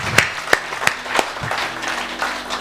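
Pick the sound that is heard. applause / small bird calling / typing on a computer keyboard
applause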